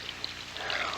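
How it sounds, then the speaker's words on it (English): About a cup of water poured from a container into a Dutch oven pot roast cooking over a campfire, a steady, close splashing pour that continues throughout. "and then we'll put about a cup of water"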